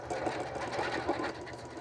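A Janome M8 sewing machine with an automatic stitch regulator stitches a quilting stem, giving a steady, rapid mechanical whirring hum at close range that stays moderately loud throughout with no voices.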